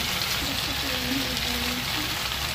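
Potatoes go into a frying pan and hiss in a dense, even sizzle that holds steady throughout, with a faint voice murmuring beneath the crackle.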